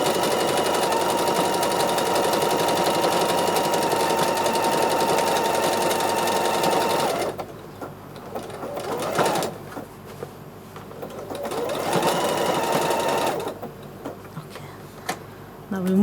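A sewing machine darns neck patches with free-motion quilting, its needle rattling in a fast steady run for several seconds, then stopping and restarting in shorter bursts close by.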